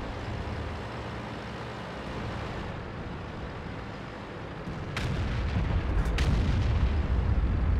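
Tank cannon fire in World of Tanks from an AMX-30B: a steady engine rumble swells into a heavier roar, punctuated by two sharp, loud cannon blasts about a second apart.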